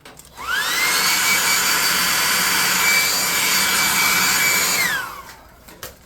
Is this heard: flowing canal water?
no